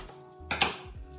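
Paper being cut for a scrapbook envelope, two quick crisp snips close up in a quiet room.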